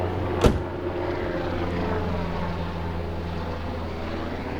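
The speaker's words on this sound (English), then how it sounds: "Helicopter." A helicopter drones overhead with a low, steady rotor hum and engine whine, fairly faint and continuous, after a brief sharp click.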